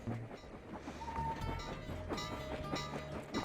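A train rolls along in the video game Sly 2: Band of Thieves, a steady rumble with rhythmic clickety-clack and faint metallic squeal, moderately distant with no talking.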